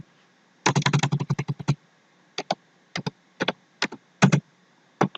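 Computer keyboard keys clacking as a username and password are entered, a quick burst of rapid keystrokes followed by sparser, spaced-out taps, close and clear against a quiet background.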